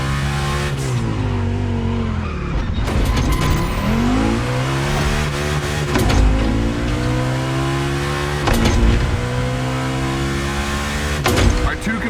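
Two Volkswagen cars racing on track in the video game The Crew Motorfest, engines revving and droning loudly with rising and falling pitch as gears shift, tires squealing, and a voice talking over them.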